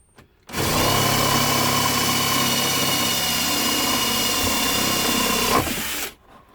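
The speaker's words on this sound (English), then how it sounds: "you can drill through the plastic behind as well" A power drill bores a 20mm hole through a plastic camper van dashboard, running loud and steady at close range for about five seconds before winding down.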